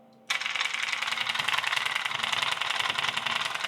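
A haptic gunstock with a controller mounted at the front buzzes and rattles in a loud, steady mechanical drone, held away from the shoulder so its vibration goes undamped; it kicks in abruptly after a short quiet moment and runs continuously.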